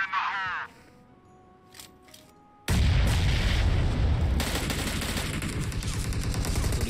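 A grenade blast in PUBG Mobile bursts in abruptly after a short stretch of quiet and a brief voice, followed by a loud, dense roll of gunfire and booms that continues to the end.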